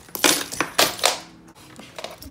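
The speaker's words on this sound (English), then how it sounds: "Yeah, my keys are right here." A set of keys is picked up and jingles in several quick metallic bursts, fairly close and fading out toward the end.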